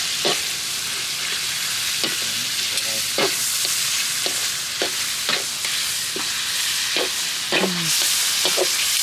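Pork offal sizzles in an open pan on the stove, a steady crackling hiss with repeated sharp scraping stir strokes across the metal, loud and close with no talking.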